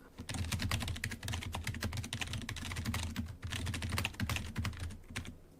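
Rapid typing on a computer keyboard, a close, dense clatter of keystrokes with brief pauses and no talking.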